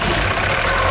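A rebuilt 16-valve overhead-cam car engine runs at idle in a workshop, a dense, steady mechanical drone heard up close with no pauses and no voices.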